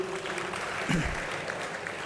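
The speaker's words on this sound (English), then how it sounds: "a big round of applause" Steady, dense clapping from a large crowd at an institute gymkhana day event, continuous and loud throughout without pause.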